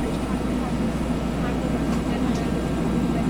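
A Bell 412 helicopter flying in the X-Plane 11.40r2 flight simulator with the experimental flight model gives a loud, steady, unbroken rotor and engine drone that holds evenly from start to finish.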